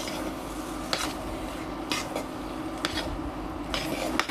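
Coconut pieces, ghee-fried cashews and raisins being stirred into sweet pongal, with several rhythmic spoon scrapes and clinks against the pot over a low cooking hiss.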